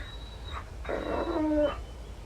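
A dog whimpers and whines in Alan Wake, a faint high whine followed by a couple of brief nasal yelps and a thin rising whimper over a low room hum, with no voices.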